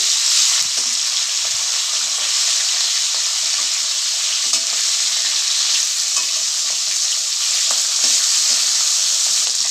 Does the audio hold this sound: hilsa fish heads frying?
yes